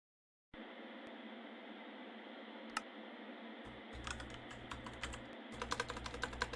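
Computer keyboard typing during a modded Minecraft session, starting as a faint steady hiss and building into clusters of quick, close key clicks toward the end.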